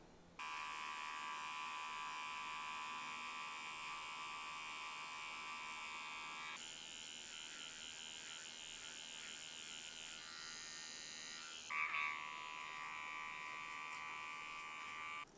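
An electric hair clipper buzzes steadily as it cuts the hair on the side of a head during an undercut haircut, a constant whine with slight pitch shifts as the blade moves through the hair.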